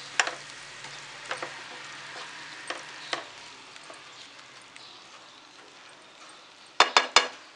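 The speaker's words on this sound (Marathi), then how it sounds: "छान मिक्स करून घेऊया." Tomato puree being stirred into mutton kheema in a pan, with a soft frying hiss and a few scattered scraping clicks from the spoon, then three sharp, loud knocks close together near the end.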